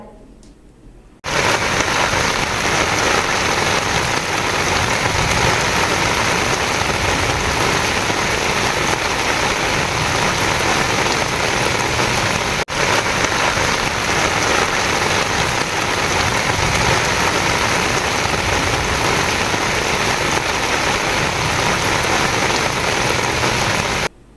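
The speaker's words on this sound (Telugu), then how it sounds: "వర్షం బాగా కురుస్తుండటంతో" Heavy rain pours down in a dense, unbroken roar that starts abruptly and holds loud and steady for over twenty seconds, with no voices.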